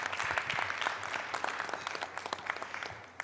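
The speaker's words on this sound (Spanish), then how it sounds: "Un aplauso, por favor." Applause from the audience at a weekly assembly, a steady wash of many hands clapping together at moderate distance, sustained for a few seconds with no voices over it.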